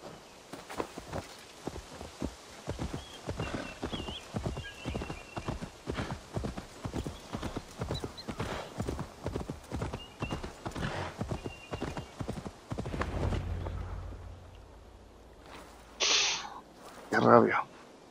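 Horse hooves clip-clop in a steady walking rhythm through most of the stretch in Assassin's Creed Valhalla, with game music and effects underneath, before a brief burst near the end that may be a neigh.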